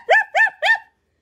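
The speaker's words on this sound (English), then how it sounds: "Storm barked as he jumped up on his hind legs" A puppy gives three quick, high yapping barks in an even rhythm, close and clear, then falls silent.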